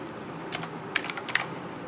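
Brief bursts of typing on a computer keyboard, a handful of quick, crisp key clicks in two small clusters, close and clear over a quiet room hum, with no speech.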